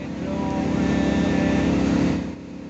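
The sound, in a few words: speedboat engine running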